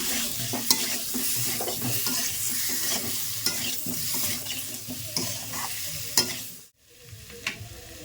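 Potatoes with cumin, coriander powder and salt are stirred in a frying pan for spiced potato curry. Close sizzling mixes with repeated sharp spatula knocks and scrapes, goes quiet for a moment, then resumes.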